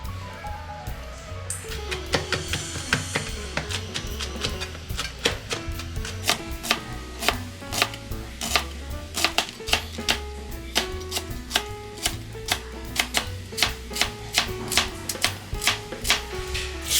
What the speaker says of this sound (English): Just take off the skin and then mince it.